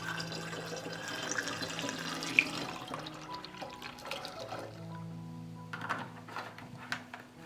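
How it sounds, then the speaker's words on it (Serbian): Natural liquid fertilizer is poured into a two-litre jug of water, a steady trickling splash that fades and then returns with a few gurgles, fairly quiet and without talk. "sipaću ga u balon sa 2 litre vode"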